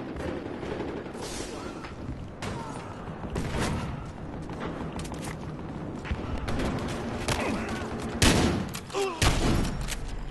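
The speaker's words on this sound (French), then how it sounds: "Je suis obligé de rusher en même temps avec mon fusil à pompe." Battlefield Hardline gameplay with shotgun blasts and other gunfire in a busy firefight, heavy irregular booms landing over a constant battle din, with a player's voice speaking now and then.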